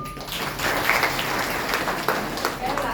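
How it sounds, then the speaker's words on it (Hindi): Group of people clapping hands together at an indoor Holi gathering, a steady patter of applause with some voices underneath. "ताली बजाओ भाई।"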